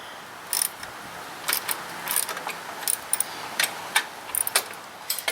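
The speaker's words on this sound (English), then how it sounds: "Good thing I'm using a little ratchet because I can't possibly over torque it" A small ratchet tightens the exhaust bolts on an Indian Scout Sixty motorcycle, with short bursts of close, crisp clicking that repeat in an uneven rhythm with brief pauses and no talk.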